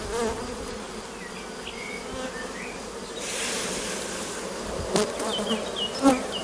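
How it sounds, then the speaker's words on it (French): Honeybees hum around an open hive frame of capped brood, a dense close buzz throughout with individual bees flying past near the end. "il faut que j'enlève les abeilles de dessus"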